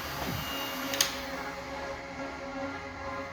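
A heat gun blows on a sticker on the side of a van, a steady, faint airy hum with a low motor drone, broken by a brief tick near one second.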